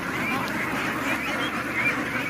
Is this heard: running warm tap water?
no